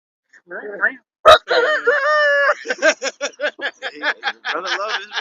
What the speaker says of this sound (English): Brother love his roosters.